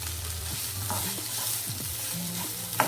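Onion masala with pieces of cooked mutton sizzles in a pan while a spoon stirs it. Steady frying crackle runs under soft scraping strokes, ending with a sharp clink.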